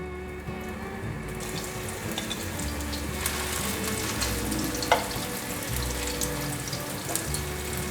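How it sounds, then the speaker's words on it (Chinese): King oyster mushrooms fry in a little oil in a flat non-stick pan, giving a steady, close sizzle and crackle that runs throughout with small pops and no talking. "锅内放入少许油，把杏鲍菇放进来煎。"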